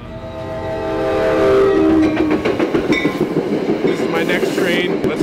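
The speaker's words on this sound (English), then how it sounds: "So let's catch this train and go meet up with Xavior." A train's horn sounds in a long rising blast, then cars clatter past close by with rhythmic clicking and rumbling, steady and loud throughout.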